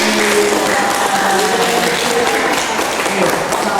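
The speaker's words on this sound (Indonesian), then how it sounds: "Tepuk tangan lagi untuk kita semua." Audience applauding after a school drama about bullying, dense sustained clapping that stays loud and even throughout, with a few voices mixed in.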